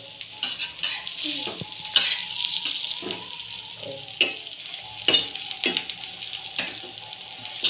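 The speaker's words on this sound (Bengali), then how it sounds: "এটা একটুখানি মিনিট খানেক মতন ভাজতে হবে গ্যাসটা কমিয়ে।" Potato tikki sizzle steadily as they fry in a little oil in a pan on low gas, with close scrapes and clinks of a spatula tapping and stirring over the frying.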